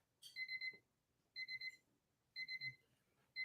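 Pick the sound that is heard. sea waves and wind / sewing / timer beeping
timer beeping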